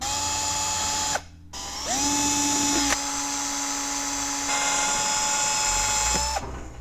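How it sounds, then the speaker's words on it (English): A power drill bores holes in Viking motorcycle saddlebags: two sustained high whines, each ending abruptly, with a brief pause between them. "All right, got the holes drilled."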